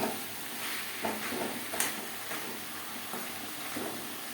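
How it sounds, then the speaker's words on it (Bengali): Pumpkin curry with split green chillies is stirred over a high-to-medium flame, a faint, steady sizzle broken by soft scraping strokes and light clicks of a utensil against the pan. "হাই টু মিডিয়াম ফ্লেমে দু তিন মিনিট নাড়াচাড়া করে নেবো"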